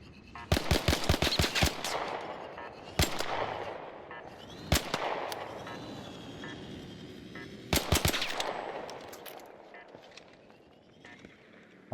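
Gunfire in the video game ARC Raiders: an opening burst of rapid automatic shots, then sharp single reports spaced several seconds apart, close and loud over a steady background of game ambience.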